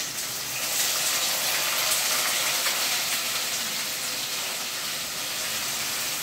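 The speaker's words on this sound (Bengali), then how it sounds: "সেগুলো তেলের মধ্যে ছেড়ে দিয়ে প্রথমে ভালোভাবে ভেজে নেব" Three medium sliced onions frying in oil over medium heat, a continuous broad hiss that holds steady throughout with no voices.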